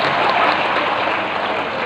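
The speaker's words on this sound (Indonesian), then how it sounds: "Kita boleh tepuk tangan." Steady applause from an audience at an Indonesian national youth forum, dense continuous clapping filling the hall with no break across the whole stretch.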